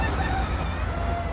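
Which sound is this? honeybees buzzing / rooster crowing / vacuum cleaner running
rooster crowing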